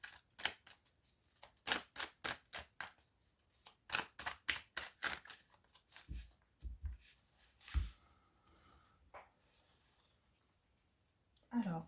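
Tarot cards drawn and laid out on a table in a rapid series of crisp snaps and slaps, then sparser handling noises, close and fairly quiet.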